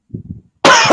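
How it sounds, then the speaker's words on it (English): A low throat-clearing grumble, followed by one sharp, loud cough close to the listener. "I had to clear my throat on that."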